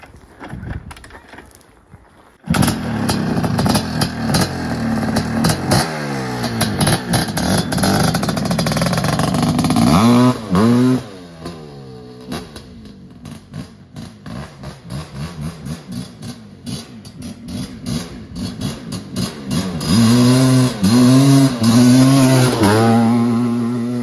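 A Suzuki LT500 Quadzilla quad engine roars close by at full throttle, in loud bursts of rising revs separated by rougher idling and lower rumbles.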